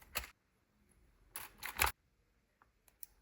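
Plastic packaging of a 220-piece drywall anchors and screws kit being opened, a few sharp crinkling and snapping bursts separated by quiet gaps, close and brief, then faint small clicks.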